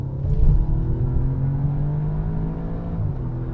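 A 2017 Audi S3 accelerates through a right turn, its engine droning loud and steady from inside the cabin with a smooth, slightly shifting hum and no talking.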